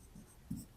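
A pen writes a math solution by hand, a brief, faint scratching of short strokes on paper, close and quiet.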